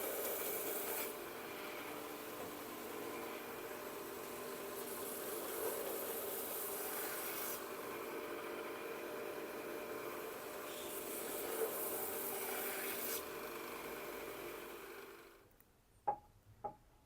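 Sanding machine flattening the crown off a knife blade, a steady close abrasive rasp that swells and eases as the steel is worked, ending in quiet with a couple of light clicks.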